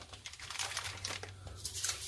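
Plastic bag crinkling as it is handled while unpacking parts for a Long Tan Huey helicopter model build, a steady close rustle with irregular bursts of crackle over a low hum.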